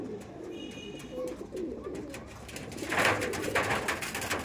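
Madrasi pigeons coo in a loft, soft repeated low calls close by over a noisy background that swells louder toward the end.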